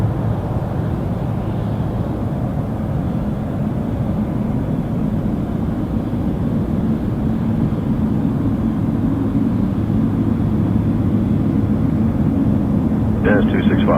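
Airliner at Toronto Pearson taking off from runway 23, a steady loud low roar of jet engines filling the whole stretch, with a brief chirp near the end.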